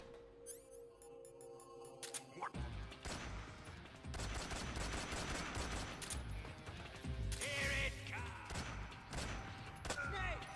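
Gunshots in the stealth game Metal Gear Solid 3, a dense stretch of repeated firing and impacts that builds after a quieter start and stays loud under in-game sounds, with a player talking over it.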